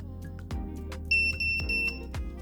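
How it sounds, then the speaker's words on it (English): Shrill electronic beeps in short bursts from an FPV drone's lost-drone beeper, high-pitched and close, over a low mechanical hum with a few clicks. "as you hear, it beeps"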